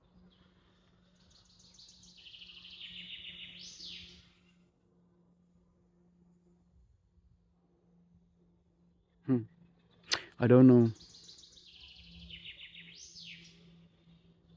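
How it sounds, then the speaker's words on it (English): Birds sing outdoors in repeated high chirping phrases, one near the start and another near the end, soft against a faint low hum, with a brief spoken remark and a few clicks in between. "You hear the birds?"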